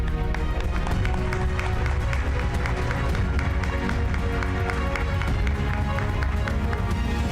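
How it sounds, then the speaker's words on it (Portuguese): A standing audience at a university graduation ceremony gives sustained applause, a dense and even wash of many hands clapping that continues without pause throughout. "peço que se levantem e permaneçam em pé para os merecidos aplausos"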